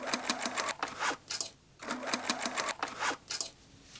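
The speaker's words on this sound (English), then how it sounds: "Straight stitch the bottom raw edge of the denim shell on the sewing machine." A sewing machine straight-stitches the raw bottom edge of a denim tote bag shell, running in quick rapid bursts with short pauses between them, close and clear with no talk.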